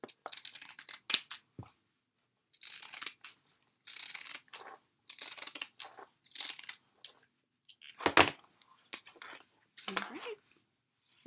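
Pinking shears trim a fabric seam allowance on a tote bag lining, giving a series of short crisp crunching snips in uneven bursts, close and fairly loud, with brief pauses between cuts.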